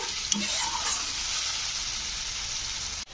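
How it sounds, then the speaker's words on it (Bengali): Masala frying in a pan for a curd brinjal dish hisses in a loud, continuous sizzle, with a couple of stirring scrapes near the start and a sharp clack of the spoon just before the end. "তো মশলাটাকে 2-3 মিনিট নাড়াচাড়া করতে হবে, দিয়ে মশলা থেকে দেখবে একটা সুন্দর তেলও উঠে আসবে"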